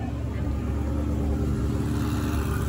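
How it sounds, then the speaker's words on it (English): A Ferrari F40 LM pulls away at a concourse rollout during the WeatherTech International Challenge at Road America, a steady low engine rumble lasting a few seconds. "And there goes our F40 LM."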